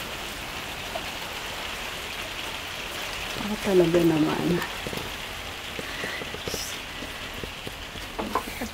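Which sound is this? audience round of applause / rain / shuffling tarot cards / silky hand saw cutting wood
rain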